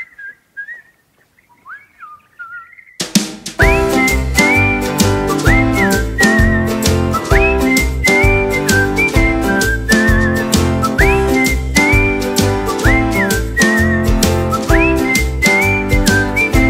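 A brief whistled phrase comes first, then a loud tune with instrumental backing carries on steadily, the whistled melody repeating in short rising notes.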